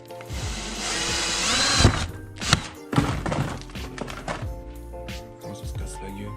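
A power drill boring a hole while a rear body kit is fitted to a Chrysler Crossfire, heard as a rising whir followed by sharp knocks and thunks, with someone talking nearby.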